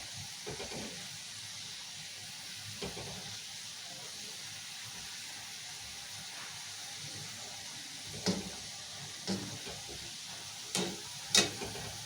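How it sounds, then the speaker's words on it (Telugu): Mysore bonda frying in oil, a quiet continuous sizzle with occasional stirring clinks and scrapes growing louder near the end, no talk. "ఇట్లా మంచిగా ఫ్రై చేసే ఇవి ఇట్లా వేసుకోవాలి మంచిగా నూనెలా ఇట్లా తిప్పుకుంటూ తిప్పుకుంటూ వేసుకోవాలి"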